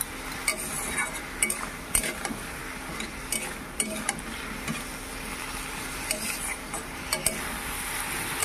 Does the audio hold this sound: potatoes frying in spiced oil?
yes